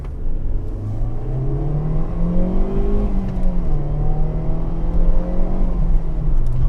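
A Ford Mondeo's 136 bhp Zetec engine revs up steadily, its pitch climbing, easing slightly, then holding high, loud and close with no talking.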